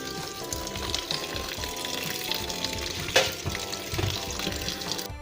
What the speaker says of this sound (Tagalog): buhusan po natin siya ng top water